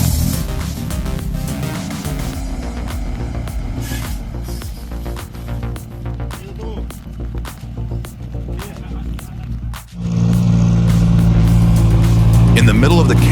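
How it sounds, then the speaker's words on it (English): A pickup truck's engine roars and revs as it strains to pull a giant stuck truck on a muddy construction site. The engine is loud and continuous, swelling sharply near the end, with voices and shouts mixed in. "the roar of the engines echoed, drowning out the noise of the machinery"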